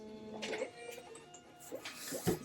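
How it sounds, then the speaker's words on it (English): Printer printing a shipping label, a few mechanical whirs, clicks and feed clunks in short bursts, close and moderately loud. "Let's get that shipping label printed."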